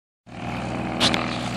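A small private airplane's engine catches and settles into a steady droning idle at Stevensville Airport, close and fairly loud after a brief silence.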